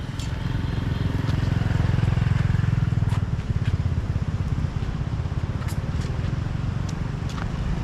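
A motorcycle rides during a driving licence test in Vietnam, a steady close engine rumble with a throbbing idle-like pulse held at constant throttle, plus scattered light clicks over the top.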